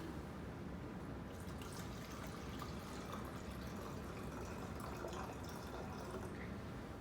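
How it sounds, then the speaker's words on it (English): Tap water runs steadily into a bottle marked in ounces, filling it toward the 8-ounce line, a continuous soft trickle and splash close by with no talking. "I'm going to fill the water up to about the 8-ounce mark here."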